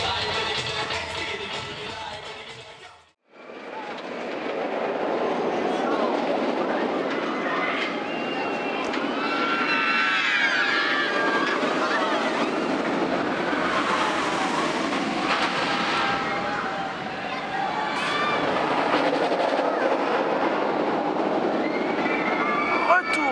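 Shambhala roller coaster trains rumble past in the distance at Port Aventura, a steady broad roar with faint rail squeals and birds calling, after a brief drop near the start.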